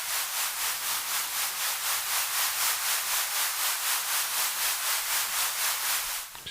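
An Ableton Drift synthesizer patch holds a bright, hissy tone that pulses quickly and evenly as an LFO on the volume gives a steady tremolo. It plays alone at moderate level and cuts off abruptly at the end.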